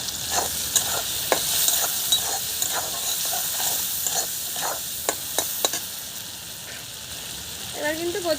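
Taro flowers, seasoned with salt and turmeric, fry in a pan under a steady hiss of sizzling oil, broken by repeated sharp scrapes and knocks of a spatula as they are stirred.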